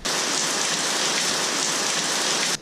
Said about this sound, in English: The rainy season in Thailand is pretty much rain all the time.